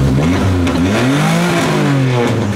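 Subaru four-wheel-drive car engine revving up and down with rising and falling harmonic tones, loud and close, no talking over it.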